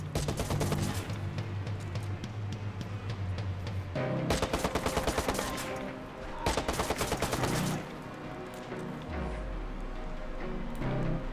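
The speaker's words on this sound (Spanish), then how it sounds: "me están disparando encima mío" Enemies on a rooftop fire dense, overlapping bursts of automatic gunfire in the open-world game Watch Dogs, close and loud. Burst follows burst almost continuously, with brief lulls between volleys.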